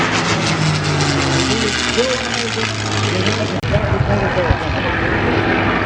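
A Corsair fighter plane flies at the Oshkosh airshow, its propeller engine a steady, loud drone that holds throughout while a voice talks over it.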